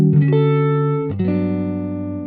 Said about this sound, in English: The guitar is just so sweet.